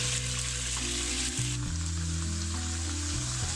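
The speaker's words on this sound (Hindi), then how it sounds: "कलर चेंज होने तक हम इसकी बुनाई करेंगे ऑयल में" Chicken pieces for a Peshawari-style karahi fry in hot oil over a medium flame, giving a steady, close, loud sizzle with a crackling hiss throughout and no talking.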